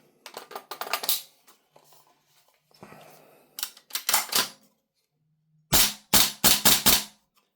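Tokyo Marui AKX gas blowback airsoft rifle with a stronger spring firing semi-auto: sharp cracking shots in loose groups, a few early scattered pops, then a tight rapid cluster of five or six loud reports near the end.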